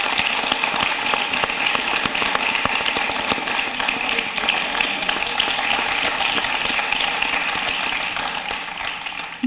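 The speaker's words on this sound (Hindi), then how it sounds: "आपकी जोरदार तालियां" Sustained applause fills a hall at a televised Hindi poetry contest, a dense, even wash of many hands clapping that holds steady for several seconds before easing slightly at the end.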